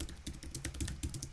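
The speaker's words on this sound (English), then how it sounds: "let's type this up" Typing on a computer keyboard during a Wordle coding stream, a short burst of rapid soft key clicks, fairly faint and close, with no talking.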